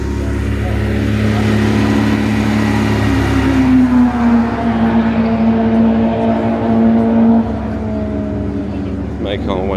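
Ferrari engines at a Silverstone track day drone loudly nearby, with a rising, sustained revving tone in the middle as cars move around, while people talk over the engine noise.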